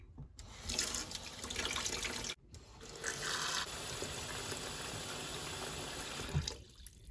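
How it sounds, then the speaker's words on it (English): Beets being rinsed in a kitchen sink under a running tap, a steady hiss and splash of water that cuts off briefly and then flows on, with faint handling noises and no talk. "You want to wash the beets."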